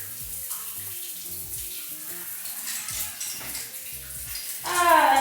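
Resort shower water runs steadily in a close, hissing spray, with faint tonal hum underneath and a louder splash near the end.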